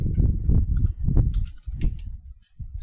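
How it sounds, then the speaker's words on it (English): Someone types a config command on a computer keyboard during Kali Linux work, making clusters of close, quick key clicks in short bursts separated by brief pauses. "So I'll just type my config."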